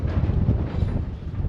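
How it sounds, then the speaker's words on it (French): Steady wind buffets the microphone aboard a catamaran, a continuous loud low rumble with gusty fluctuations and no talking. "Ça recommence, ça repart ce vent là."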